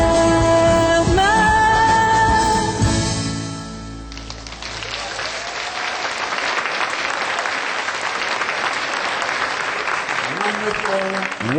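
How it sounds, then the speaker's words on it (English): Audience applause following a singer's performance: a dense, steady wash of clapping from a crowd that starts after a few seconds of fading music and carries on evenly to the end. "Let's give her another round of applause."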